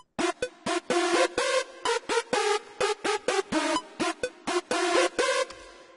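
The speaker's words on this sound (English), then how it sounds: "I got this melody from a pack or some whatever" A bright synth melody plays in short, evenly spaced staccato chords, looping in a steady rhythm at a moderate volume with no voices.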